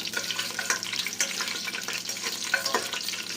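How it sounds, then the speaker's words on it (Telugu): Whole spices with bay leaf, star anise and shahi jeera frying in oil for biryani, making a steady close crackling sizzle with scattered pops and scraping stirs, no voices. "స్టార్ ఫ్లవర్ బిర్యానీ ఆకు షాహీ జీరా ఇవన్నీ వేసి మంచిగా వేగేద్దాము"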